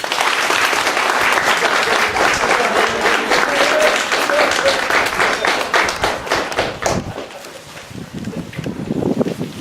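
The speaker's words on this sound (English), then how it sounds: "We can give them all a round of applause." Loud, dense audience applause at an Eagle Scout court of honor, many hands clapping close by with some thumps, fading out toward the end as a voice begins.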